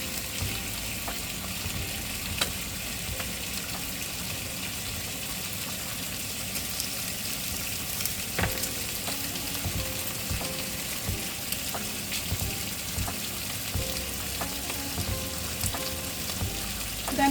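Pork belly sizzles as it grills beside a pot of kimchi stew, a steady close crackle with small pops and spits that runs throughout at a fairly low level, with no talking.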